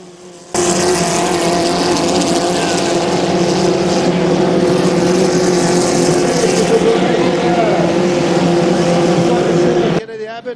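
Racing powerboats roar in a 1.5L class final at Valleyfield, a loud sustained engine drone filling nearly the whole stretch with steady pitch shifts, while a commentator talks over it.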